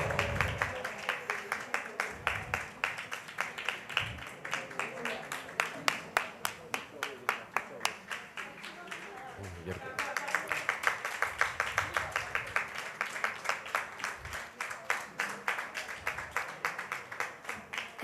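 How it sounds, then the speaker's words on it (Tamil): An audience at a music concert claps to welcome a performer to the stage. The clapping is steady, dense and rhythmic, with a regular beat that holds for about eighteen seconds. Faint voices murmur beneath it. "ஸ்ரீமதி மங்களம் ராமசுவாமி அவர்களை கரகோஷத்தோடு கூடி நாங்கள் வேதியிலேக்கு க்ஷணிச்சு கொள்கிறோம்"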